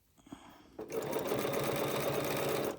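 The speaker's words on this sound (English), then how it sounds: "when you actually do the top stitching, stitch in place, you're going to peel it back and just go and stitch" Sewing machine top stitching a quilt block starts up after a brief pause and runs at a steady, fast, even hum, close and alone with no talk.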